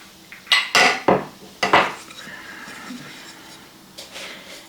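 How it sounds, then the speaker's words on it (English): Eggs and vanilla flavoring drop into brown sugar in a dish, giving a few sharp clinks and knocks of utensil and shell against the bowl, followed by softer scraping, close and quiet. "I'm just going to dump in my vanilla flavoring and my eggs"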